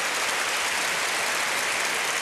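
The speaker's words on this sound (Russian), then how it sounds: "Ваши аплодисменты." A concert audience applauds after a performance, a dense steady wash of clapping at moderate level with no voices.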